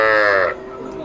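A Khillar cow at the Sangola cattle market lets out a loud, drawn-out moo lasting about half a second, then fades into quieter market background.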